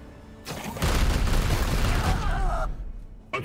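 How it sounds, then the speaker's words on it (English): Sustained volley of gunfire opening up in Warhammer 40,000: Chaos Gate Daemonhunters, a loud dense burst lasting about two seconds with heavy low booms, trailing off into quieter rumble. "Opening fire."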